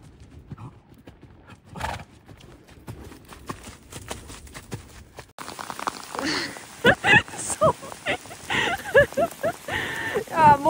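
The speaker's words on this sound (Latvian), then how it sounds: "Jā, mums ir lietus." Rain falling during horse training, with steady patter on surfaces at first, then louder, denser rainfall joined by horse hoof clip-clops and nearby voices talking over it.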